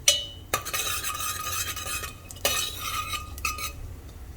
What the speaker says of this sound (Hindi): 6-7 ये काली मिर्च के दाने डालेंगे। इन्हें थोड़ा सा भून लेंगे